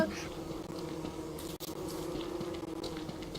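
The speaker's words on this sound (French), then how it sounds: "les abeilles, il y avait une abeille, elle buguait" A bee buzzing in the survival video game Don't Starve Together, a steady insect drone layered over constant game sounds and music, holding close for the whole stretch with one brief dropout.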